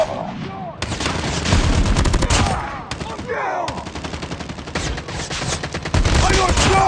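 Rapid automatic gunfire rattles loud and close in the Call of Duty Mobile video game, arriving in sustained bursts with short pauses and a faint voice underneath.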